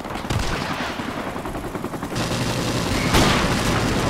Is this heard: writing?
no